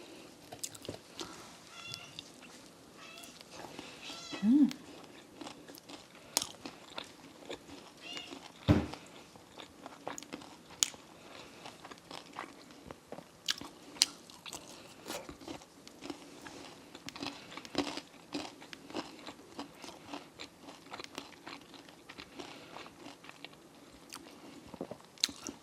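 Close-up mukbang biting and chewing of spicy Korean Q chicken wings, with soft wet chews and occasional crunchy bites scattered irregularly over nearly half a minute and no talking.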